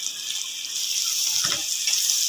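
A small splash of water, about half a cup, is poured into chicken qorma cooking in a pot, a steady close pouring hiss with a brief thicker gurgle midway.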